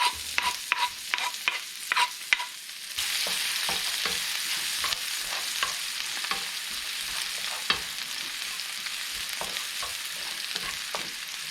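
Garlic sizzles in a little oil in a hot pan while being cooked for shrimp, a steady broadband hiss that starts after a few seconds, broken by sharp clicks and scrapes of stirring throughout, close and moderately loud with no talking.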